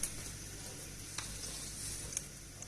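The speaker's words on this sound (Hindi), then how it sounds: "इसमें मैं 2 सूखी लाल मिर्च डाल रही हूँ, 1 तेज पत्ता डाल रही हूँ" Dry red chillies and a bay leaf sizzle in hot oil for bhindi masala, a steady close hiss with a few faint clicks and no talk.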